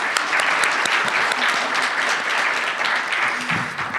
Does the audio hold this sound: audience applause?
yes